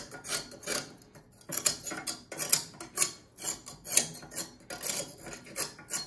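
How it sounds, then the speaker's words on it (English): Scraper working around a cast iron burn pot in a Ravelli Francesca pellet stove, giving irregular bursts of close metallic scraping and rasping with a few light clinks between strokes. "And then, of course, scrape the burn pot."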